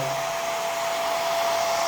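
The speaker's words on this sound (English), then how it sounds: "Then with the blow dryer, don't go hit the whole surface like this, no." A blow dryer runs steadily and loudly up close while drying the leather seats of a BMW E46 M3 interior, a constant whooshing whine with no talking.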